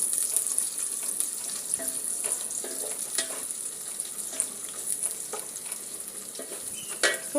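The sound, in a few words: gas stove flame with onions frying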